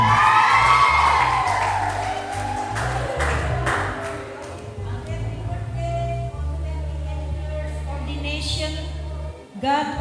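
Applause for Mr. Simanjuntak sent from Japan at an Indonesian church ordination anniversary and scholarship launch, heard as a steady crowd clapping with some cheering, continuing throughout under someone talking over music.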